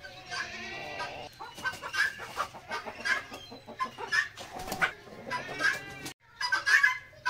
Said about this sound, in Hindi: अपनी सिल्की चिक्स को भी बाहर निकाल देते हैं धूप में